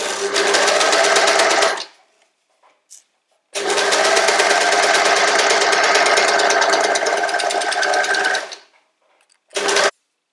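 Sewing machine stitching the hem of a turban, two long steady runs of fast mechanical whirring separated by silence, with a brief final burst, close and loud.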